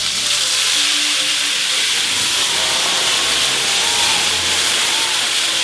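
Steak in a hot pan hisses loudly after a splash of cognac, a dense, steady sizzle that fills the whole stretch with no voices.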